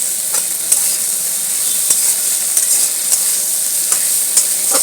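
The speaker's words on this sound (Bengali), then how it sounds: "মশলাগুলো দিয়ে সবজিটাকে ভালো করে কষে দেবো" Vegetables stir-fried with spices in a pan for a shrimp and telakucha greens dish: loud, close, continuous sizzle with repeated sharp scrapes and taps of the spatula.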